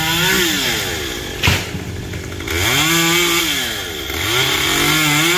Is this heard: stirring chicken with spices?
no